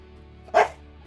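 A pet dog gives a single short, loud bark indoors over a quiet room hum.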